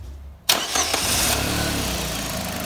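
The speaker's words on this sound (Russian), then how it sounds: "Запуск двигателя." A 2013 Chery Tiggo 1.6-litre engine cranks and fires after a quiet start, catching abruptly with a brief flare before settling into a steady close idle, with no voices.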